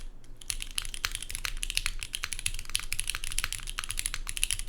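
Fast, steady typing on a mechanical keyboard, with crisp, close keystrokes clacking in a continuous rhythm and no voices.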